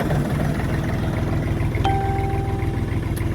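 A JINMA tractor engine idles with a steady low rumbling chug, loud and close, and a brief tonal beep or whine cuts in partway through.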